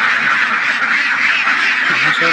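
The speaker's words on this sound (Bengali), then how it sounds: "হাঁস দেখুন খাওয়ার জন্য কি ডাকাডাকি করতেছে" A flock of ducks calling for food, quacking nonstop, loud and close, with overlapping raspy calls.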